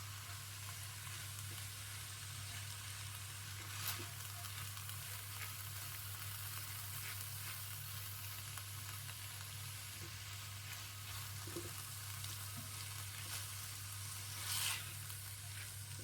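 Garlic is stirred into bolognese sauce in a pan, making a steady, constant sizzle that goes on without a break, with faint occasional scrapes from the stirring and a low hum underneath.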